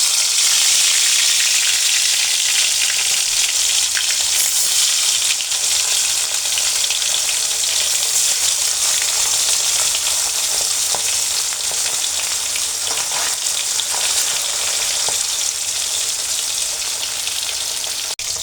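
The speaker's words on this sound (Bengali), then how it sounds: "এ পর্যায়ে আমি একে একে মাছগুলো ভেজে নেব।" Pieces of hilsa fish fry in hot mustard oil, giving a loud, close, continuous crackling sizzle that holds steady throughout with no talking.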